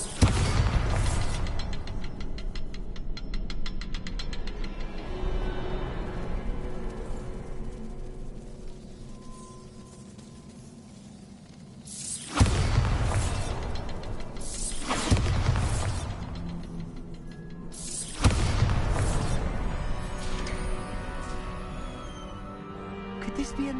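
Bombarda blasting spells go off in Hogwarts Legacy as three heavy, booming explosions a few seconds apart, each rising sharply out of a low rumbling background of game ambience.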